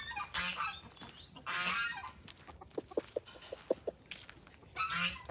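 Farmyard geese honk just after being fed in a rural setting, several loud nasal calls in bursts with short clucks and pecking sounds between them, close by and without talk.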